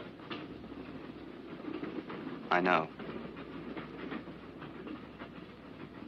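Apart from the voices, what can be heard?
train running on rails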